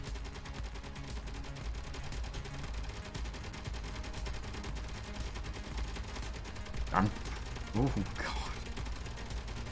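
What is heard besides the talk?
turret gunfire in Space Engineers video game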